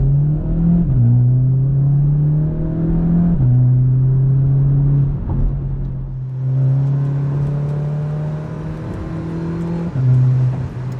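A Volkswagen Polo GTI accelerates hard through several quick DSG gear shifts, the engine note climbing steadily then dropping at each upshift, loud and close with no talk over it.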